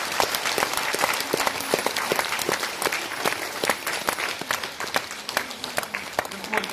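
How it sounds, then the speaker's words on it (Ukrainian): Steady, dense applause from a Christmas concert audience, many hands clapping at once, moderately loud and sustained throughout without a break. "Будь ласка, оплески."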